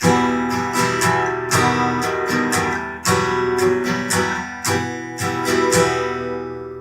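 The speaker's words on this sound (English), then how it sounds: "So those 4 chords together will sound like this." An acoustic guitar strums a short progression of four ringing chords in a steady rhythm, clear and close, with no voices.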